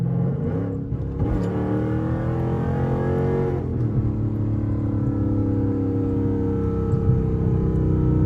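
A loud 5.7 Hemi V8 car engine drones and rumbles steadily from inside the vehicle, revving briefly early on before settling into a constant, close roar.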